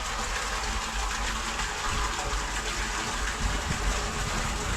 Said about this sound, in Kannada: ನೀರು ಬೋರ್ ಚಾಲು ಮಾಡ್ಯಾನ ರೀ